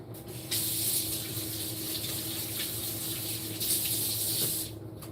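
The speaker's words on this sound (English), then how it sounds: "let me put in some blueberries. I gotta rinse them off." Tap water runs steadily onto blueberries being rinsed at a kitchen sink, a close, even hiss and splash that swells briefly louder near the start and again toward the end.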